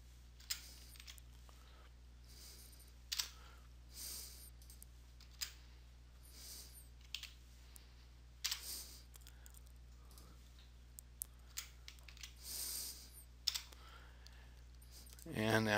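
Computer keyboard typing comes through as sparse, faint clicks and short bursts of keystrokes, spaced irregularly against a quiet background hum, ending with a louder cluster of taps.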